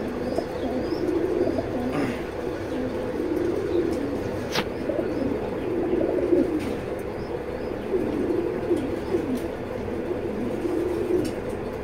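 Racing pigeons coo steadily at close range, several birds overlapping in a continuous, soft, throaty burble that runs throughout with no pauses.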